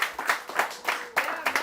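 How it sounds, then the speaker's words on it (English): An audience at a class session claps in a brief burst of applause, quick sharp hand claps repeating in an uneven rhythm for under two seconds. "just give one long applause for yourselves for being able to make it here today"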